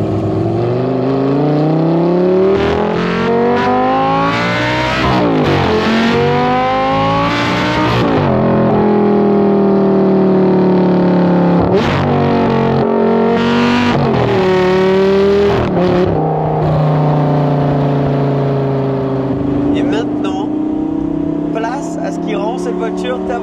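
A Lamborghini Gallardo Superleggera with a 5-litre engine drives off, its loud revving rising through repeated gear changes, heard from nearby. Voices talk over the engine at times.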